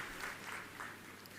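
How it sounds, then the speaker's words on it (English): Faint audience applause fills a student induction programme hall, a steady low wash of many hands clapping for a short stretch with no voices over it. "Let's give a big round of applause to Ila for supporting rural students in his companies"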